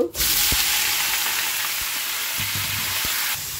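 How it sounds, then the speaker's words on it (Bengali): Chopped pumpkin, potato and onion drop into hot oil. A sudden loud sizzle erupts and holds as a steady hiss, with a few faint utensil taps, then eases slightly near the end. "এখন দিয়ে দেব কেটে রেখেছি কুমড়ো, আলু আর পেঁয়াজ।"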